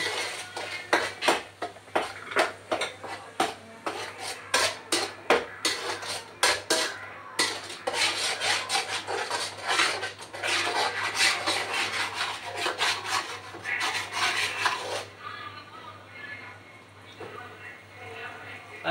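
Ground onion paste being sautéed in a pan for cauliflower kurma: dense, continuous scraping and rubbing of a spatula against metal, loud and close, easing into a quieter steady rasp near the end.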